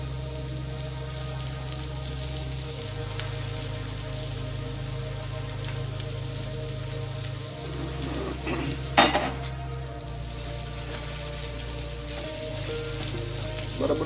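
Soaked poha being stirred into cabbage in a pan, a steady soft sizzle with a brief scraping stir near the middle, close and moderately loud, no voices.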